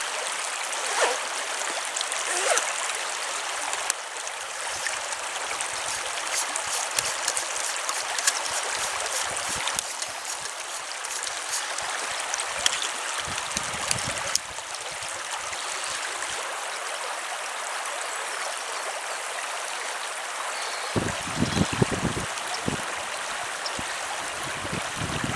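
A forest stream flows with white foamy bubbles swirling on its surface, giving a loud, continuous close rush of water with small shifts in texture, brief louder splashy patches and a few knocks.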